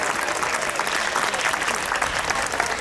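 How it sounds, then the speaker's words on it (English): A crowd applauds the volunteers at the 2023 BC Dumpling Festival opening ceremony, with steady, dense clapping holding throughout and no voices rising above it. "How about a big shout out and a round of applause for all the volunteers associated with the festival"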